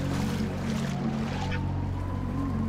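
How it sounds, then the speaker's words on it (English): A boat on water in the Xbox 360 game Perfect Dark Zero runs with a low engine hum and a steady wash of churning water, loud and continuous with no talk. "I can steal this boat."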